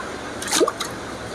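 Water passes through a sieve and falls in one brief, soft splash and drip midway, with a faint trickle after it against a quiet background.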